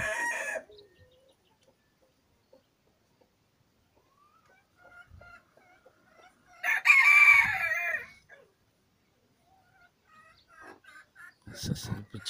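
A hen with newly hatched chicks makes a few short bursts of clucking and peeping, separated by long quiet stretches, with the loudest burst near the middle.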